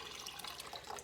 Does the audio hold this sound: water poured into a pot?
yes